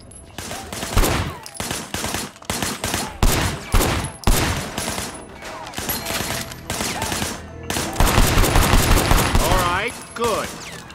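Rapid bursts of video game gunfire from Sleeping Dogs, loud and close, with repeated volleys and short pauses while a voice speaks intermittently over the shooting.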